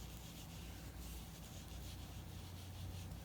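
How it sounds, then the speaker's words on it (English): A soft rag rubs conditioner into a leather beaver tail wallet, giving a steady, close brushing and scuffing texture that continues evenly without pauses or voices. "just rub it on there, and it doesn't hurt the leather"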